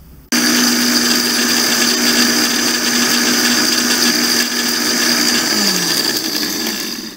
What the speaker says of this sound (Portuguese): no número 1 do liquidificador e deixa triturar